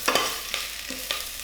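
Ginger and spring onion sizzle in hot oil as they are stirred, with a few distinct scraping strokes over a steady frying hiss, close and fairly loud, no voices.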